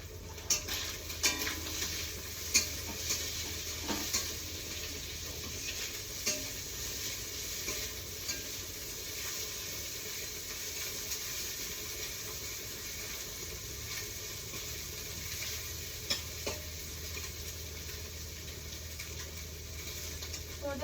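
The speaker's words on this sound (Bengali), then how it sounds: "আমার মাছ ভাজা হয়ে গেছে দেখো আমার মাছ ভাজার কালার হালকা হালকা কালার হচ্ছে" Fish fries in a pan with a quiet, steady sizzle running throughout, broken by occasional light clinks and scrapes of stirring.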